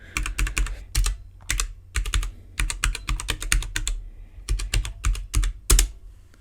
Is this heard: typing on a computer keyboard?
yes